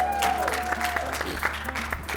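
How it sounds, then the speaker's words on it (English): Audience applause for a chef after a main entree is presented at an African cooking demonstration, a brief burst of clapping mixed with voices talking over it. "let's give our chef a round of applause"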